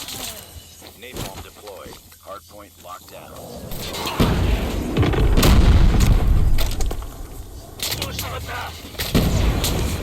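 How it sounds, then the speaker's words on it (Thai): Gunfire and heavy booms from a Call of Duty Mobile ranked multiplayer match sound in loud bursts, swelling into sustained firing midway, while someone talks over it. "เดี๋ยวไซโดนไทย63ยิงเข้ามาครับ"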